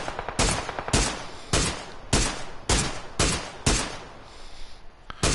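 PUBG gunfire on Xbox/PS4: about eight loud, sharp shots crack out at a fairly even pace, each with a short decay, close and dominant, with no talking.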